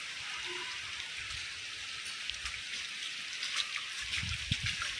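Steady rain falls on a rooftop, a soft continuous hiss with scattered droplet ticks and a few low splashy patters, fairly faint and even throughout with no talking.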